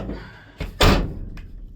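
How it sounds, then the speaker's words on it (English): A van door thuds shut close by, with a short clatter just before the heavy slam and a faint knock after, no talk. "I shall just check the door."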